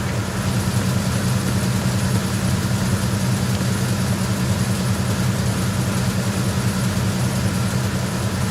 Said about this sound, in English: It's really, like, loud in here. I guess it's because it's the engine room